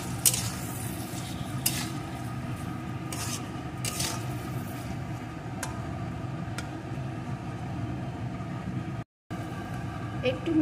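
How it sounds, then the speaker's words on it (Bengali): Cauliflower bhapa mix seasoned with salt, a little sugar and slit green chillies being stirred by hand, a soft continuous rasping and rubbing of spoon against bowl with a few sharper scrapes, close and steady over a low background hum. "এখন একটু মিশিয়ে নেব"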